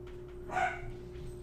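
A pet dog barks excitedly indoors, a single short yelping bark rising briefly over a steady electrical hum.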